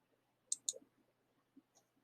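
Two crisp computer mouse clicks in quick succession, close and clean, then a fainter third click a second later, in a quiet room with no talking.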